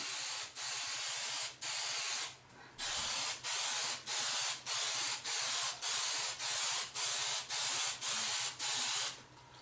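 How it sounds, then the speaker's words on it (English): An aerosol can hisses in a long run of short, evenly spaced bursts, broken by brief pauses, close and fairly loud. "after we've given it a good spray"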